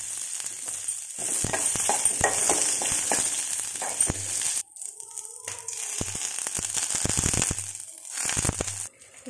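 Garlic and onion fry in hot oil in a pan. A steady, loud sizzle carries repeated stirring scrapes and clacks, briefly dropping away midway before the sizzling resumes.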